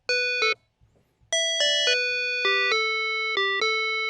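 Korg Kronos MOD7 FM synth patch with a bright, bell-like digital harp tone: a series of clean plucked notes, one short note, a pause, then several sustained ringing notes played alone, with no talking.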